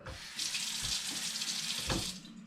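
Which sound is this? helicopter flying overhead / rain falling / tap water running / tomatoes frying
tap water running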